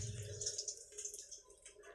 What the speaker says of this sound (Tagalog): Malakas kasi yung tubig niya pumapasok